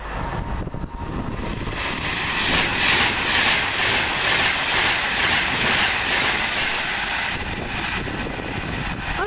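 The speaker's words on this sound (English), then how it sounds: "Next up for Virgin Trains, one Bravo 17 off Birmingham New Street going to London Euston." Virgin Trains Pendolino from Birmingham New Street to London Euston passing through a station, a loud steady roar and rumble of the train close by that swells in the middle and holds throughout, with no talk.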